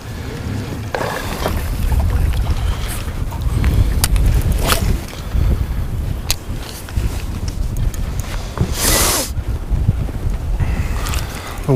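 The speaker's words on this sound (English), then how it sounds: "The wind has completely changed directions and is now blowing me down the lake." Wind gusting over a lake while fishing from a boat, buffeting the microphone in rough, uneven bursts over a low, constant rumble.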